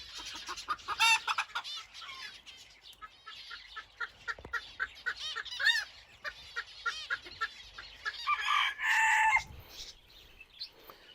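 Hens cluck busily in quick bursts, with a rooster crowing loudly near the middle and again toward the end, no talking.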